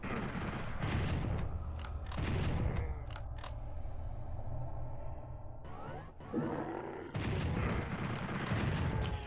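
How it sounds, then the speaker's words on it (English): Gunfire and explosive blasts from the PS1 video game Final Doom, loud, dense bursts of shots and booms with brief lulls between volleys and no talking. "Who's shooting?"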